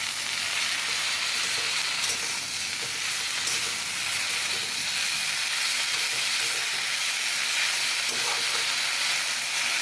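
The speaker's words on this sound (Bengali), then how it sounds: "তো এইদিকে দেখো, শাকটা ভেজে নেব। এই শাকটা বসিয়ে দিলাম আমি।" Leafy greens (saag) fry in a pan with a steady, loud, hissing sizzle that continues unbroken throughout, with no voices.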